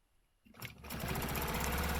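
A sewing machine stitching fabric starts up after a quiet moment and then runs in a fast, steady whirring buzz, close and continuous.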